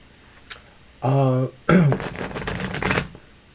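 A deck of oracle cards is shuffled up close in a long, dense riffling rustle lasting over a second. A short speaking voice comes just before it.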